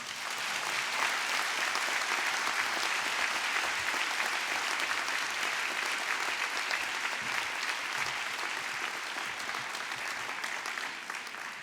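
Enthusiastic audience applause after a speech: a sustained, dense wash of clapping from a large crowd in a hall, steady and loud throughout, tapering slightly near the end.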